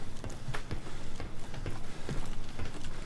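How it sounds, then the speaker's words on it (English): Metal footsteps in the tactical shooter Insurgency, on the map Station in area 10: a steady run of sharp clanking steps, fairly close, over a busy game background with no talk. "the only place on the map you're going to hear this distinctive metal footstep is in 10"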